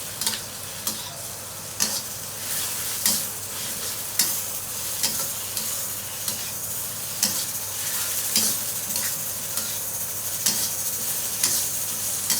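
Eggplant stir-frying in a pan, a continuous loud sizzle broken by regular spatula scrapes and clacks roughly every second, close and without talk.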